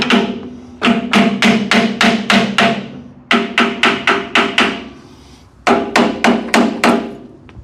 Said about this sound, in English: So next up is the hammer.